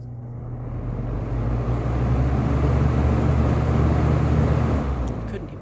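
A GE Frigid 20-inch box fan, model BF-3, spins up: a broadband whoosh over a low motor hum swells during the first two seconds, then holds steady and close.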